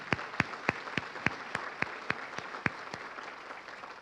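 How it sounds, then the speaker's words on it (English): Sparse clapping at an awards ceremony honoring sponsors, a handful of distinct claps at a steady, even pace, fairly faint and distant in a large room. "Let's give them a round of applause."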